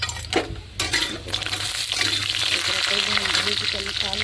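Adauri sizzle in a hot kadhai as they are stirred, a steady frying hiss with occasional scrapes and clatter, while a person talks over it.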